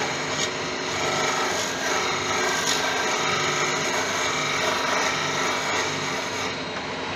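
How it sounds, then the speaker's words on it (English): A parting tool cuts a small tenon into the base of a large driftwood snowman on a wood lathe, giving a steady, loud rasping scrape that runs unbroken throughout with no talking. "Have a parting tool just to put a small tenon in the bottom of it for putting in."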